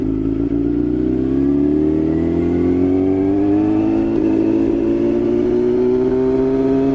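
Sport bike motorcycle ridden on a street, its engine note rising steadily in pitch as it accelerates, loud and close with continuous wind and road roar underneath.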